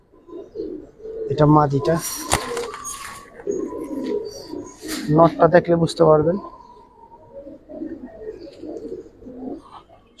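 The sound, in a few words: Giribaz pigeons cooing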